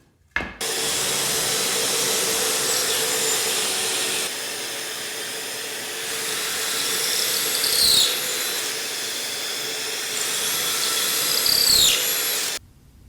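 A power drill whines steadily up close while boring pocket holes into the ends of cabinet nailer strips, running in two long bursts with short rising pitch sweeps and a brief dip between them.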